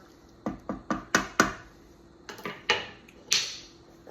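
A spoon knocking against a frying pan while beef barley soup is stirred, a series of sharp metallic clinks in two quick clusters, close and clear with no talk.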